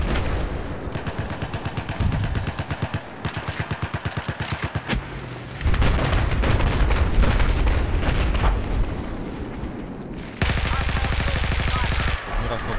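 Rapid bursts of automatic gunfire in a video game rattle loudly, interspersed with heavier booms and brief pauses, dense and continuous like a game battle.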